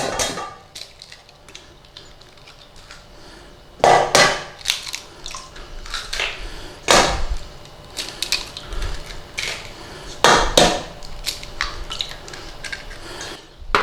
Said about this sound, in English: So crack your eggs in there.